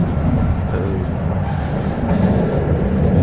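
A steady low rumble of a tram rolling along rails in Saltivka, Kharkiv, in the morning, with faint wheel squeals and rattling, continuous and fairly loud.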